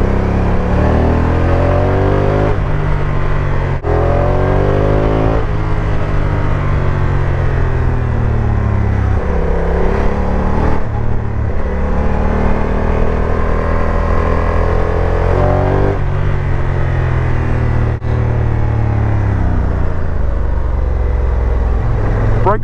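A Honda NT1100 motorcycle rides along in its automatic drive mode, the engine droning loudly and steadily with rising and falling pitch as it shifts, no talk over it.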